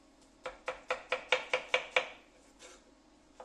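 A knife chops an onion into strips for caramelizing: eight crisp, evenly spaced cuts against a board, close and clear, followed by a couple of fainter taps.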